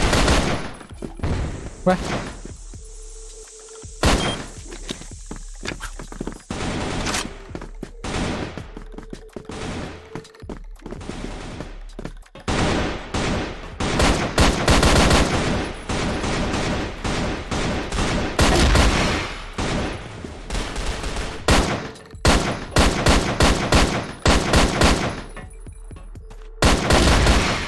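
Rapid bursts of HK gunfire in the CrossFire shooter, a dense series of loud sharp shots with short pauses between volleys, plus a brief spoken interjection.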